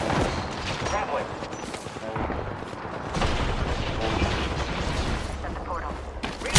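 Video game enemies fire on the player in dense, rapid bursts of gunshots and booms that keep going, mixed with game effects and talk.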